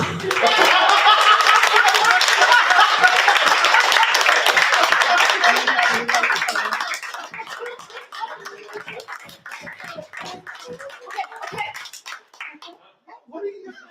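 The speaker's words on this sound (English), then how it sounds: "I have to leave the microphone so people stop clapping" An open mic audience claps loudly and steadily, then the applause thins to scattered claps while a voice speaks over it.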